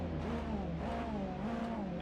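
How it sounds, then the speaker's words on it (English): TCR touring car engine in a racing video game at Anglesey, revving loudly with a buzzy, wavering pitch that climbs and falls while the car heads into the pits. "You can all enjoy the revs as you all head into the pits."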